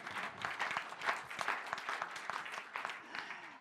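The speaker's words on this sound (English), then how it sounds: "I think we should clap for prevention as well" Audience applause fills a digital health panel session, a dense, steady patter of many hands clapping at moderate volume throughout, with no speech over it.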